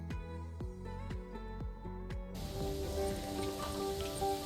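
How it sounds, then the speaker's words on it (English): Rain comes down around a charter catamaran in French Polynesia, a steady soft patter with scattered drops and a faint hiss, with background music playing over it. "the rain that was coming down on us"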